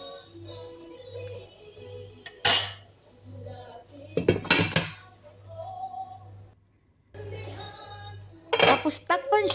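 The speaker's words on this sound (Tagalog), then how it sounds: "Tapos halu-haluin siya, ihalo siya sa mga naunang ingredients or sangkap." A utensil stirs cabbage and papaya in a cooking pot, producing bursts of metallic scraping and clanks between quieter stretches, close by over a low steady hum.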